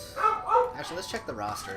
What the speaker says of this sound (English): Sorry about the barking again.